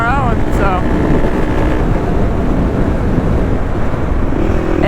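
A Kawasaki KLX300 motorcycle cruises on the highway at about 78 mph with the revs held a little high, giving a loud, steady roar of engine and wind noise that does not let up.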